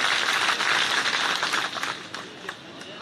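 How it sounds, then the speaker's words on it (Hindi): A crowd at a BJP membership ceremony in Vidisha claps to welcome Suresh Pachauri, a dense, loud wash of applause that gradually thins and fades toward the end, with a few scattered claps lingering. "एक बार आप भी सुरेश भाई का तालियां बजा के स्वागत कीजिए।"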